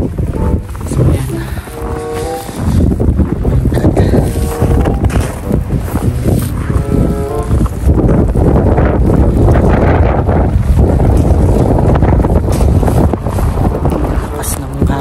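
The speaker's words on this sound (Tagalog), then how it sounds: "lakas ng hangin" Strong, gusty winter wind in Canada roars and buffets the microphone outdoors with snow on the ground, loud and continuous, while a person talks over it.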